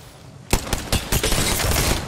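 Rapid gunfire in a shooter video game erupts loudly after a brief quiet start and keeps going as dense, overlapping bursts of shots.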